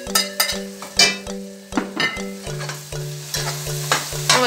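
Bell peppers frying in a pan, stirred with repeated clinking scrapes of a utensil over a continuous sizzle and a low steady hum.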